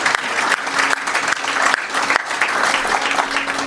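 An audience breaks into steady applause, dense clapping that stays fairly loud and even for a few seconds with no talk over it.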